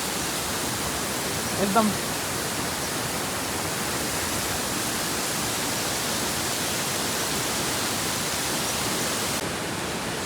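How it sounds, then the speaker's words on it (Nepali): Bhorle waterfall in Nepal, running lower than usual this season, pours as a steady, broad, close rush of water through the whole stretch, with a brief spoken word near the start. "साथीहरू झरना चाहिँ यही हो"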